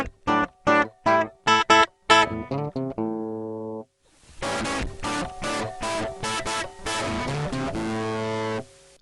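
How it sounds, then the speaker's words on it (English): A short synthetic melody of plucked tones plays, then repeats through a hard-limiting digital distortion effect, with a harsh, buzzy, clipped sound that thickens every note. "So distortion simply takes the input signal, operates a hard limit, and rescales the output."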